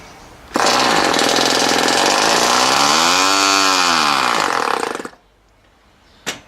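A Hawk 0.4 cubic inch, 7.5 cc model engine runs close and very loud, a harsh buzzing roar lasting about four and a half seconds, its pitch dipping and rising once before cutting off abruptly, followed by a brief knock.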